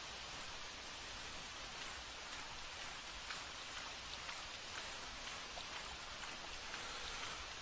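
Steady rain patters down in a continuous, even hiss with scattered droplet ticks, no voices, a soft wash of game weather in theHunter's Rougarou Bayou.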